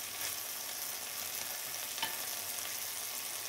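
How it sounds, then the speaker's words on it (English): Vegetables sauté in a pan with a quiet, even sizzle that runs throughout, one faint clink partway through, and no voices. "All right, we're gonna let those saute."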